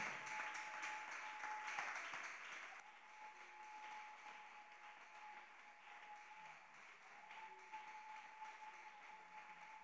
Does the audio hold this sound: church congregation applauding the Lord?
yes